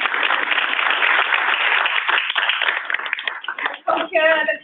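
A roomful of guests at an environmental engineering academy event claps for committee members being introduced, dense and sustained before thinning out as a voice begins speaking.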